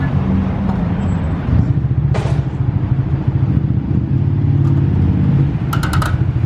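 A Honda CB750 motorcycle engine rumbles loud and close during a group ride, with steady road and traffic noise and other bikes around.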